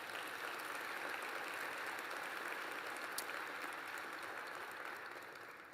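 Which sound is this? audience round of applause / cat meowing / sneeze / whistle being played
audience round of applause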